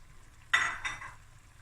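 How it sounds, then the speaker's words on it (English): Pasta tipped into a hot pan for a creamy haddock dish, a sudden sizzling scrape followed by a second stir, then fading to quiet, close and alone. "now I'm going to add the pasta"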